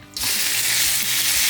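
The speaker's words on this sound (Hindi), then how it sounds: "काली मिर्च थोड़ी सी स्प्रिंकल करके इसके ऊपर इसको मैं फ्राई कर लूँगी" Chicken drops into about a tablespoon of hot oil in a kadai over medium-low flame, breaking at once into a loud, steady, close sizzle that holds to the end.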